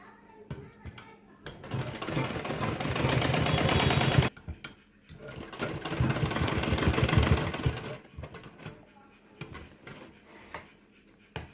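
A sewing machine runs double stitching on a dhoti salwar in two long rattling bursts, close and loud, with short pauses and quiet gaps between runs.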